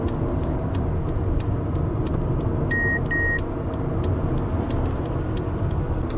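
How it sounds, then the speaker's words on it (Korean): Steady road and tyre rumble fills the cabin of a Mercedes-Benz GLA 250 4MATIC while driving, constant and moderately loud, with a couple of short electronic beeps partway through. "노면 소음은 어느 정도 좀 올라오는 편이고요"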